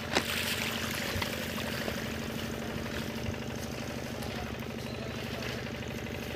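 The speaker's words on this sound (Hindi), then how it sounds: "ये देखो ये पानी चल रहा है ना" Irrigation water pours steadily through a delivery pipe into a farm field, a constant rushing and trickling wash with a low engine-like hum underneath, fairly faint and continuous with no talking.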